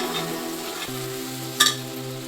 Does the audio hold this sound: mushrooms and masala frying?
yes